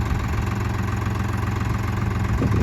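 A New Holland T3.50 tractor engine idles close by in a field, a steady low mechanical rumble that holds even and continuous throughout with no voices.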